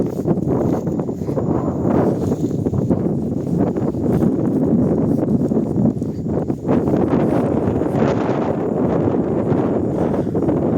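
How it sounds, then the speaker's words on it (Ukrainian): Strong wind buffets the microphone in a constant, loud roaring rush with gusty swells throughout, outdoors in Truskavets, Ukraine. "Уявіть собі, як я цей вітер чую"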